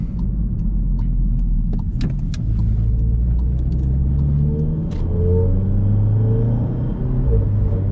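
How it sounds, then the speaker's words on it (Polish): Škoda Superb 2.0 TSI tuned to 503 hp, accelerating at half throttle on the road in Normal mode: a steady, loud engine rumble with a rising drone and road noise inside the car. "szczerze wcisnąłem gaz do połowy i też auto nie jest jakoś tam nadzwyczaj narowiste"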